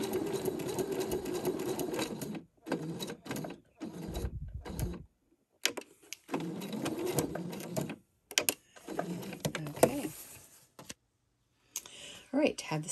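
Sewing machine stitching a foundation-paper-pieced quilt block, running in steady bursts with short pauses and a few quick back-tack stitches, close and loud, with a person talking in between runs.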